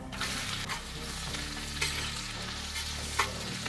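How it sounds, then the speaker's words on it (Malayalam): Onions fry in oil in a pan for konchi kozhi (prawn and chicken) biryani, a steady close sizzle broken by scraping stirs of a spoon against the pan, with no talking. "നന്നായി ഒന്ന് മൂത്ത് വരട്ടെ, അതുവരെ നമുക്ക് ഇളക്കി കൊടുത്തുകൊണ്ടിരിക്കാം."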